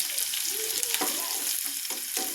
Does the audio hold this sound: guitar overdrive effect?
no